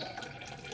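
A weak stream of tap water runs with a soft, faint, continuous trickle, heard alone.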